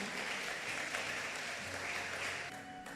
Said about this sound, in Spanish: Colóquese de pie y dele fuerte ese aplauso al Señor.